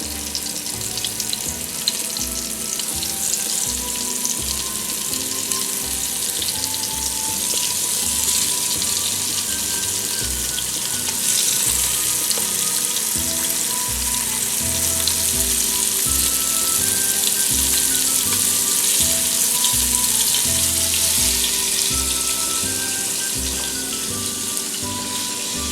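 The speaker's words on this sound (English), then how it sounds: "if it hit the pan and it wasn't sizzling" Steady, loud sizzling and crackling of venison frying in a hot pan, continuous throughout with no talking.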